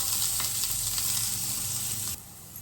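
Onion and masala fry in a pan for a home-cooked shev bhaji, a loud, steady hiss of sizzling with light stirring that drops off abruptly near the end.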